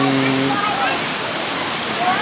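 Steady rushing water from Tat Hai waterfall in Khao Phra Wihan National Park, Thailand, fills the scene, a broad continuous roar with a brief hum of voices early on.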